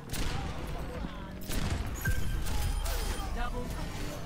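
Gunfire in an Overwatch-style online shooter match, bursts of rapid shots and impacts mixed with game effects while a player talks excitedly over them.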